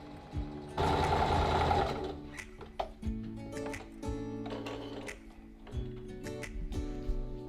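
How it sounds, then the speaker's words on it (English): Sewing machine stitching seams on a thrifted pillowcase for home decor, heard close in short start-stop bursts with ticking clicks between runs. "I'm going to sew my seams here and then attach my panel on top"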